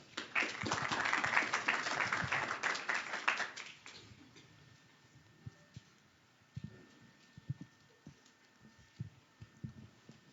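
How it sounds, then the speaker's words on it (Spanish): Audience applause welcoming a surgeon speaker at a university medical workshop, a dense burst of clapping for about four seconds that quickly fades, followed by quiet room noise and scattered thumps. "a quien vamos a recibirle con fuertes palmas"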